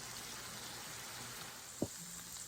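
Wagyu burgers sizzle on a griddle heated to about 375–380°F, a steady, faint frying hiss throughout with one brief knock near the end.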